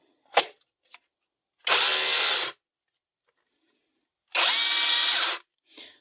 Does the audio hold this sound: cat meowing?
no